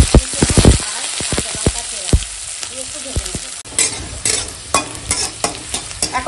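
Onion and green chilli fry in a wok, a close, sharp sizzle punctuated by repeated metal spatula scrapes and stirring knocks in an uneven rhythm.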